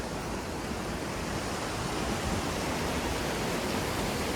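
Water rushes in a constant, loud roar as it flows through a traditional gharat watermill in a hill village, a broad, unbroken wash of sound with no voices.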